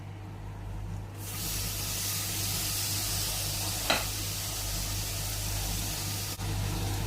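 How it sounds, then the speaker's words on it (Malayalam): Chopped tomatoes hitting a hot pan of spiced potato curry base, raising a sudden loud steady hiss of frying that holds evenly over a low hum, with a single brief scrape of stirring. "ഇതിലേക്ക് അരിഞ്ഞു വെച്ച തക്കാളി ചേർത്ത് കൊടുക്കാം"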